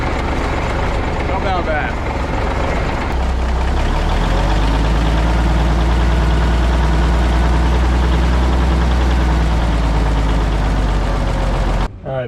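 An old cabover truck that sat unused for twenty years, its engine cranked by an air starter and then settling into a loud, steady, low diesel idle that fills the clip, with a man's brief remark over it.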